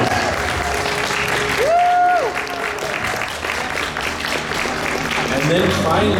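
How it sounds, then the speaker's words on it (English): Audience applause fills a Smallville fan convention ladies panel in Chicago, steady and loud throughout, with crowd voices and a brief whistle-like tone rising above the clapping. "A round of applause."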